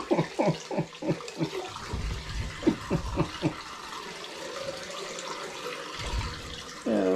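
Water sprays and gushes from a leaking plumbing line during a pressure test in a mouse house, a steady hissing wash with some short splashy bursts early on and a sharper surge near the end.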